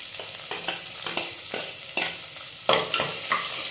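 Two large chopped onions being stirred and fried in a pan with a spoon, for sambar rice made with seeraga samba rice. Steady close sizzling under repeated scraping strokes, with a sharper stir near the end and no talking.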